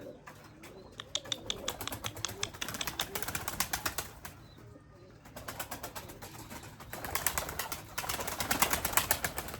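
Limoni breeding pigeons around a coop produce bursts of loud wing flapping and clattering takeoffs, along with soft cooing. The flutters come in rapid waves, pause briefly midway, then swell again.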